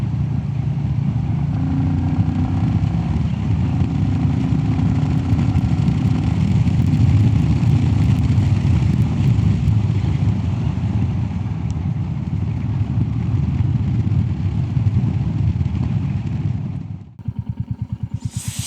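Royal Enfield Classic 350 motorcycle engine fitted with a FuelX Lite and a DNA air filter, running loud and close with a steady thumping idle throughout, then a brief change near the end.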